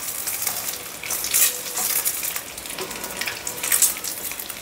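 Boiled eggs frying in a pan for a green egg curry, a close, bright hiss of oil with bursts of crackle and spattering as they turn, steady throughout and without speech.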